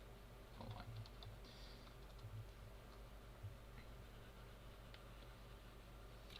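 Soft, irregular clicking of fingers typing on a computer keyboard, close but quiet against steady background hiss, with no talking.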